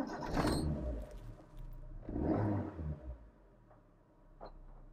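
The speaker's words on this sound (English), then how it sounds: "I just wanted to start the car up for you, and it sounds just as sweet as the Proton we took out last week." An 1980s Proton Saga LE limited-edition car engine cranks and catches in two bursts, a loud start followed by a second rev, then settles to a quieter idle.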